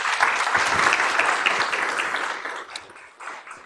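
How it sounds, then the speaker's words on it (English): A crowd at a campus leadership lecture series applauds steadily, many hands clapping together at full volume, then gradually thinning out toward the end. "I'd like to have a round of applause"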